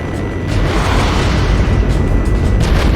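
Explosions from aircraft weapons destroying vehicles on a road in the jet combat game Jane's Advanced Strike Fighters, heard as a dense, sustained rumble of heavy booms with rolling blasts layered over one another, loud and continuous.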